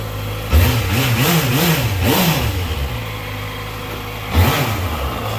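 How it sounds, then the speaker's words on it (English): A 2014 Honda CBR650F sport motorcycle engine revs sharply several times in quick bursts, rising and falling in pitch, then idles before one more short rev near the end. "Ooh, she's snappy. Snappy motor."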